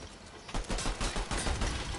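Rapid gunfire aimed at a turret in the Fortnite video game, a quick string of close, punchy shots for about a second and a half after a brief quiet start.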